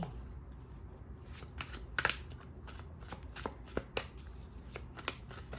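Tarot cards shuffled by hand in a quiet room, a steady papery riffle broken by sharper snaps and taps as the deck is cut and squared.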